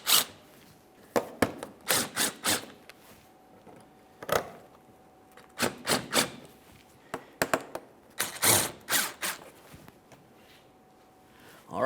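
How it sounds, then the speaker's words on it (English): Headlight mounting bolts being started by hand on a 2008-2017 Mitsubishi Lancer, close up: clusters of short scraping, ratcheting and rubbing bursts separated by quiet gaps. "I'm just going to start in these mounting bolts before tightening any of them."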